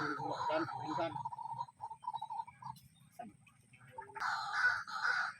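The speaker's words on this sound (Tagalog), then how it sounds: "tumutunog yung mga ibon guys uh, sa palayan yan guys tumutunog yung ibon" Harsh, cawing bird calls repeat in bursts over a rice field, with a faint ticking pattern in between; an outdoor setting with some speech-like sounds mixed in.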